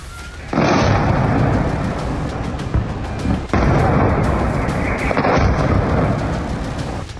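Explosions from Israeli strikes on Tehran, Iran, a loud, dense rumbling roar that surges abruptly at the start and again midway, sustained like heavy blasts and thunderous booms with scattered sharp cracks, no voices heard.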